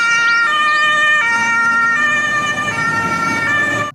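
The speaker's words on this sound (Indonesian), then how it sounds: "Ternyata ini mobil truk pemadam kebakaran." A toy fire truck sounds its electronic siren, a loud, steady wailing tone that steps between pitches every second or so, close by and continuous from start to finish with no talking.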